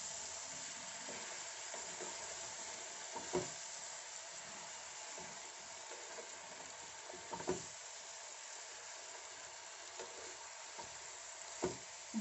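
Paneer taka tak stirred in a hot pan over high flame, a steady low sizzle running throughout with occasional soft scraping knocks of the spoon against the pan, no voices.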